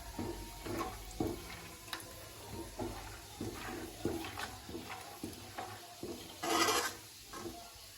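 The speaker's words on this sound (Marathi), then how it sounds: "थोडेसे असे शेंगदाणे पण तळून घ्यायचे" Peanuts frying in oil in a pan, a soft low bubbling sizzle with repeated light clattering stirs, fairly faint and close, with a brief louder hiss near the end.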